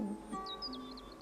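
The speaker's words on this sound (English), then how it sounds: "I hear the birds." Birds chirp outdoors at an arts and culture festival, with short high tweets and trills repeating across a steady hum of background noise, faint and somewhat distant.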